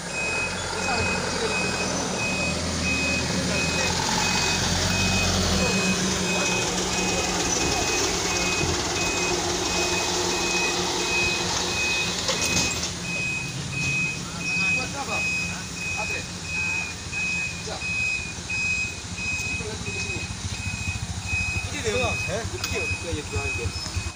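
A truck's reversing alarm beeps steadily and repeatedly while its engine rumbles nearby on the steep Batu Jomba climb; voices talk in the background.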